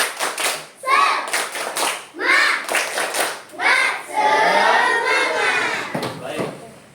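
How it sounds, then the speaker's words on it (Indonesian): Classroom groups of children perform a rhythmic spirit clap, bursts of patterned hand claps in quick sets with short pauses, mixed with children's chanting voices. "Kita masing-masing kelompok kita tepuk semangat dulu."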